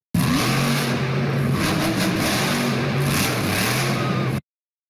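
A monster truck's big engine rumbles at a steady, loud roar with slight surges in revs, heard close and continuous until it stops suddenly.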